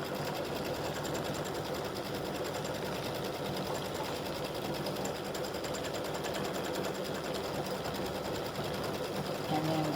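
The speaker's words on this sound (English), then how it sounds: "is doing the tack down stitch for the beard fabric." An embroidery machine runs a tack-down stitch on beard fabric for an appliquéd St Patrick's Day gnome, a steady, fast mechanical whirring and clatter that holds constant throughout.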